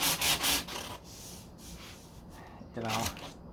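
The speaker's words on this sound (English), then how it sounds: "I'm just trying to scuff it up, basically, get it flat." A 1969 C3 Corvette deck lid is hand sanded with 220 grit paper, giving rough rasping strokes at the start and again near the end, with quieter scuffing and a voice heard between them.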